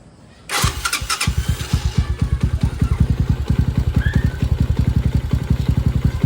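A Euro 150 motorcycle with a fault of no lights and no horn cranks and starts, then settles into a loud, close, steady idle with rapid even pulsing throughout.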